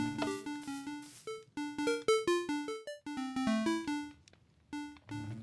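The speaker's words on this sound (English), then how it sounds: "I've replaced every block under the notes with emeralds because it makes quite a funky sound" Minecraft note blocks set on emerald blocks play a bright, plucky tune, a quick run of clean electronic-sounding notes with short pauses between phrases.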